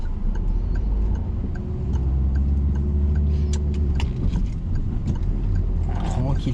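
A car on a driving lesson pulls away from a roundabout in first gear, the engine rising steadily in a low drone with soft ticking inside the cabin and a voice talking.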